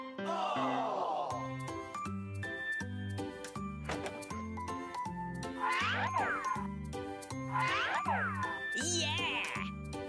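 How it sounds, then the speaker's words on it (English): A cat meows several times, rising and falling wails heard over steady rhythmic background music. "There's a cat."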